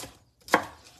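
A single knife cut through an onion on a board, one crisp chop standing out from quiet surroundings, close and brief, with no talking.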